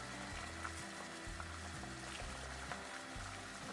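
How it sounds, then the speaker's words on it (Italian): Florets of tender Apulian cauliflower are tipped into a pot of boiling water that already holds pasta, with a steady bubbling and pouring wash under soft splashes. "quindi ci andiamo a versare i cavoli"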